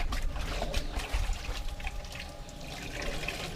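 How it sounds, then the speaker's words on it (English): A buff pad used for car paint restoration is dunked into a bucket of water, giving a continuous close sloshing and trickling for a few seconds. "I like to take the buff pad off and dunk it in the bucket of water."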